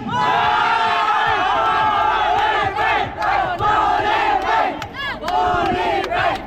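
A large crowd at a live game-show contest shouts and cheers loudly and continuously, voices overlapping into a roaring, energetic din with whoops rising above it.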